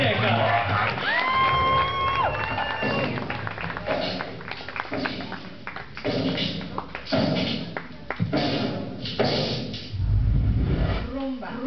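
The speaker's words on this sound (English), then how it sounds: "give him a round of applause." Audience at a Rumba Azteca dance performance class cheering, whooping and clapping in waves, with shouts and voices throughout and a brief swell near the end.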